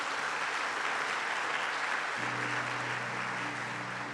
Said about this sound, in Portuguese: Pode aplaudir a Deus, pode aplaudir a Deus.